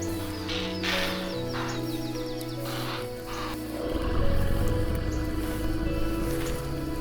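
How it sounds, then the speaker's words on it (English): A lion roars on the savannah, a deep swelling roar that builds loud and close, over a steady wild outdoor background. "The first roar rang out, not for hunting, but for declaring war."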